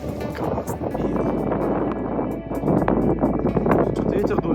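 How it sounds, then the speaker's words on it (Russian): Wind on a mountainside at Rosa Khutor, Sochi, in February buffets the microphone with a constant low rumble and rushing noise. A person talks over it throughout. "Что-то ветер дует."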